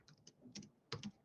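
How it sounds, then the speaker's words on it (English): Light, quiet keystrokes on a computer keyboard, a handful of uneven taps in quick succession with small clustered clicks near the end, in an otherwise still room. "If I can type."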